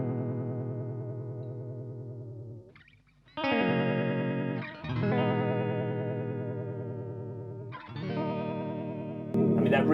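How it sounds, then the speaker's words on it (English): A guitar run through a Drybell Vibe Machine modulation pedal with reverb, giving sustained chords with a wobbling, pulsing vibe and a reverb tail, loud and close, broken by short pauses between strums. "that reverb is helping"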